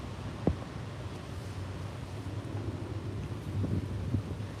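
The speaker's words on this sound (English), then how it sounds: "because it's so windy outside, extreme" Strong wind blowing outdoors buffets an exposed microphone, a steady low rumble with a few sharp gusts and thumps throughout, no voices in the clip.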